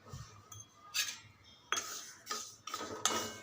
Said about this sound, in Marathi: आता मोहरी भाजूयात.